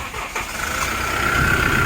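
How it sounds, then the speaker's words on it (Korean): A Kia Bongo 3 double-cab truck engine, about ten years old with 55,600 km, runs steadily at idle, a smooth mid-pitched rumble with a faint whine on top, heard up close. "경쾌하고 아주 좋은 엔진 소리가 납니다"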